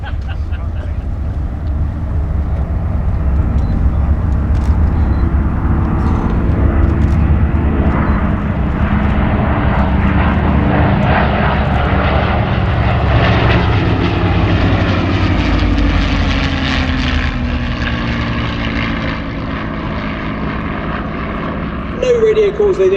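Flying Bulls propeller aircraft at Sywell Airshow 2024 breaking to land, a loud, continuous engine drone whose pitch sweeps and shifts as it passes, with a voice talking over it.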